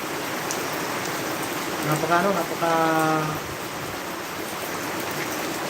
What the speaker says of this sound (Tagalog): parang wala pang balak tumigil ang ulan